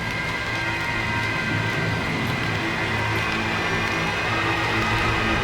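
Steady heavy rain on a stormy night in the S.T.A.L.K.E.R. Shadow of Chernobyl game, set in Chernobyl, Ukraine, with low rumbling thunder beneath a constant dense wash, no speech.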